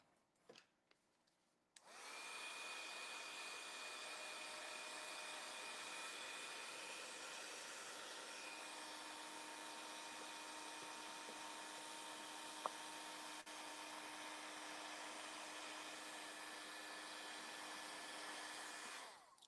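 A heat embossing tool switches on with a click and blows hot air in a loud, steady whirring hiss for about seventeen seconds close by, then cuts off, with no talking.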